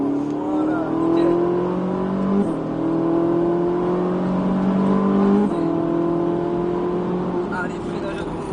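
A Ferrari F458 engine accelerates out of a corner on a race circuit, a loud, steady high-revving tone climbing through two gear changes, heard close from onboard with someone talking over it.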